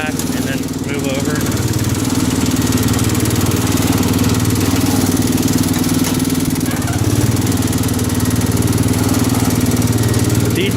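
A John Deere 110 garden tractor engine drones steadily and loudly throughout, with a constant mechanical rumble and no pauses, while driving over a driveway under repair.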